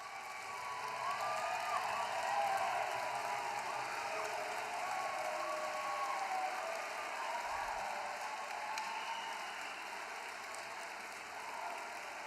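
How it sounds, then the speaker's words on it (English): A banquet audience at an athletics awards event applauds student therapists, a steady distant wash of crowd clapping sustained throughout. "I should have said that we were going to hold the applause, but I didn't"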